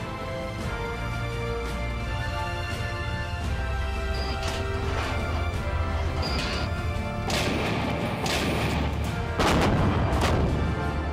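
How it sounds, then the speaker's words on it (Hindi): Artillery shelling in the Kargil war zone rumbles continuously, with repeated heavy booms and sharp crashing blasts that grow louder and denser toward the end. "ये वो जगह है जहां दोनों पक्षों के बीच लगातार बिना रुके कई दिनों से गोलाबारी हो रही है"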